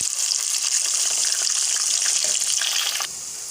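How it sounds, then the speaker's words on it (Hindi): Chopped onion frying in a pan for fish curry, a steady broadband sizzle that holds loud and even, then drops slightly quieter near the end, with no talk. "ये हमने चॉप किया हुआ अनियन इसमें ऐड कर दिया था, इसको भी फ्राई कर लिया 1 आध मिनट के लिए"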